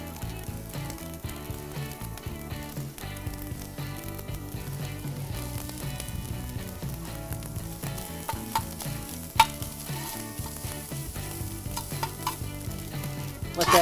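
Fried rice with onion and carrot cooks on a REC TEC grill. A continuous, dense sizzle runs throughout with steady scraping and stirring, close and even in loudness, and no speech.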